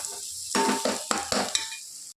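Sliced onions sizzle steadily in a hot pan for a chicken curry, with several stirring scrapes giving short rhythmic bursts over the constant frying hiss, close and fairly loud, no voices.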